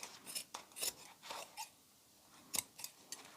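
Scissors snipping through craft material for an autumn decor project, a series of short, quiet crisp cuts with brief pauses between them, no voices.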